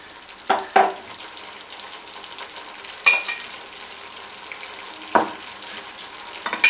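Ground spice powder is stirred into simmering Tamil kuzhambu curry, giving a soft steady bubbling sizzle with a few sharp scraping strokes of the spoon against the pot at intervals.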